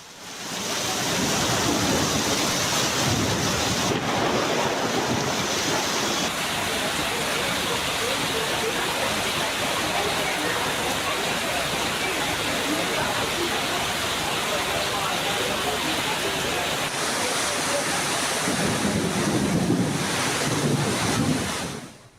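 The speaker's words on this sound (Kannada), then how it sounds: "ಮಳೆ ಕೂಡ ಜೋರಾಗಿ ಆಗ್ತಾ ಇದೆ" Heavy rain driven by strong wind in Belagavi makes a loud, continuous roaring wash of noise, with gusts buffeting the microphone and a voice faintly present beneath.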